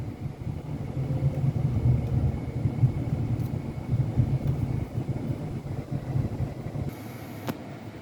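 A 2022 Kia e-Niro electric car rolls along and slows down without braking, heard from inside as a steady low road and tire rumble that eases slightly toward the end, with no engine sound and no talk.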